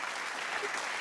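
Steady, even applause from a conference audience at a talk on advertising and gaming, a continuous mid-loudness patter of many hands with no speech over it.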